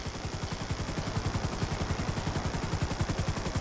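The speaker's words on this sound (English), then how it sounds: "Just hold the chopper here." A helicopter hovers in GTA 5, its rotor chopping in a fast, steady rhythmic thump that stays loud and close the whole time.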